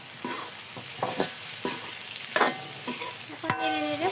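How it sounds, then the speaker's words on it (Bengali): Grated potato and egg filling is stirred in a spiced pan with chopped green chilli, a spoon scraping in repeated strokes over a steady sizzle, close and moderately loud, with no talking. "এখন নেড়ে নেড়ে পুরটা রেডি করে নিব"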